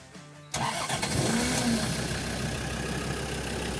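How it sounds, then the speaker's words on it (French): A van's engine is cranked and fires up after its battery is reconnected, a sudden loud catch followed by a steady, close idle that holds for several seconds. "On rebranche ensuite les éléments du moteur sur la batterie et on croise les doigts pour que ça redémarre"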